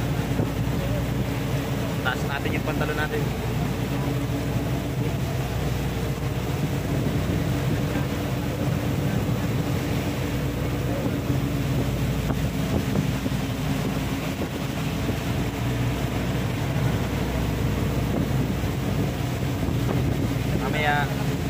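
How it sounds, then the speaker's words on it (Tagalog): Strong waves and heavy wind at sea aboard a vessel during a super typhoon, a constant loud rushing roar with engine-like rumble beneath, and someone speaking briefly over it. "Lakas ng alon."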